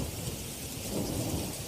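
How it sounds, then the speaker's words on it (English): Thunder rumbling through a winter blizzard with thundersnow and sleet over Kansas and Missouri, a steady broad roar of wind-driven precipitation with low rolling thunder swelling in the second half, no voices. "to flashes of thunder snow"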